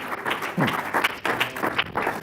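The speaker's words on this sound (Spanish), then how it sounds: "Dele ese fuerte aplauso a Jesús" Congregation at a Spanish-language church service bursts into loud, continuous clapping for about two seconds, with a few voices rising through the applause.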